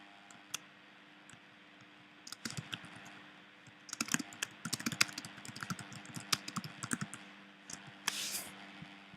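Mouse double-clicks and bursts of computer keyboard typing, close and crisp, with scattered clicks and keystroke clusters over a quiet room hum and no talk.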